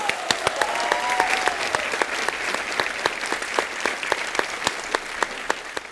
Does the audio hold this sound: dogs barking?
no